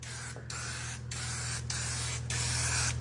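A turbo spray paint can hisses loudly and close up, spraying primer onto a Blazer truck in four or five continuous bursts separated by brief pauses.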